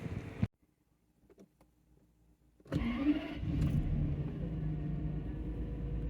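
A Toyota Century with a GZG50 V12 engine cranks and fires after a spark plug replacement, a short click and quiet pause giving way to a starter whir and then a steady, smooth idle rumble close by.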